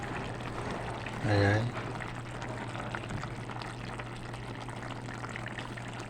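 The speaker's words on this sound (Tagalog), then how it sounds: "So maglalagay na po tayo, magdadagdag po tayo ng oil." Oil poured into a pan of homemade tamban sardines, a short gurgling pour near the start over a low steady hum, followed by faint simmering; a voice speaks briefly.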